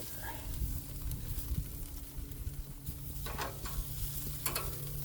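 Shrimp sizzle on a Weber gas grill just after being flipped, a steady close hiss with scraping and light clinks of a utensil partway through.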